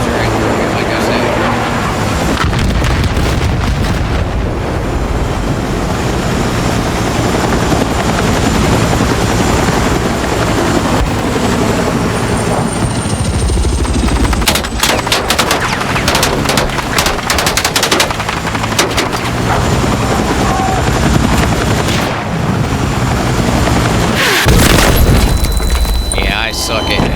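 A helicopter's rotor drone in Battlefield 6 multiplayer runs throughout, loud and constant, mixed with bursts of machine-gun fire and booming explosions, with voices under the noise.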